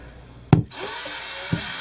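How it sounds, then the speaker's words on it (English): A power drill fitted with a scrub brush attachment gives a sharp knock, then spins up into a steady close whir while scrubbing, with a second small knock near the end. "basically what you do is you just let the brush do the scrubbing for you"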